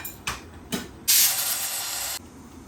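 A pressure cooker of dal lets off a loud, steady rush of hissing steam for about a second, preceded by two short bursts of clatter.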